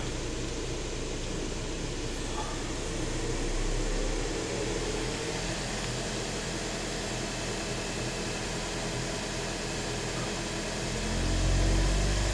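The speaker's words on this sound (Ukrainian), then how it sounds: "Автомобіль сам автоматично підіймає оберти, щоб зрозуміти, як він працює на різних обертах." A VW Passat with 500,000 km on it, in for an emissions-system cleaning, hums at a steady, noisy idle as its engine raises its own revs, swelling slightly toward the end.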